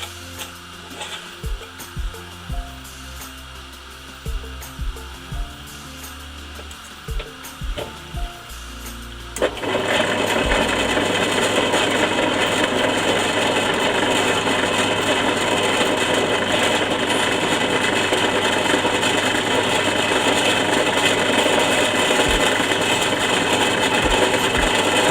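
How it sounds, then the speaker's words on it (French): A drill press fitted with a 2.5 mm bit drills a series of holes while building a shooting table. A few quiet handling clicks come first, then the machine starts a loud, steady whir that runs without a break to the end. "on va passer à la perceuse à colonne"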